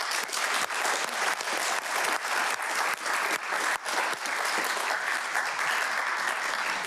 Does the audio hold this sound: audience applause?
yes